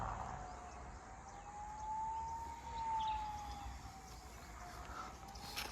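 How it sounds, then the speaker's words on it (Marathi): A distant ambulance siren wails in a steady rising and falling tone on a road during a Konkan trip, faint over broad background noise with no talk. "ॲम्ब्युलन्स"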